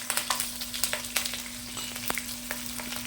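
Green chillies sizzle and crackle in hot oil for an egg fry, with irregular close pops and spits over a steady frying hiss and a low mains hum, no voices.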